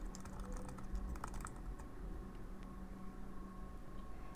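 Keys clack on an Apple Magic Keyboard in a quick, uneven patter of light taps, close and fairly quiet in a calm room, with no talking.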